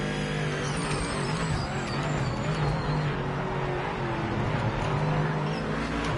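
A GT3 race car runs on track at a test-and-tune session, its engine a loud, steady droning roar with sustained tonal harmonics and slight pitch shifts, continuous and close throughout with no talk.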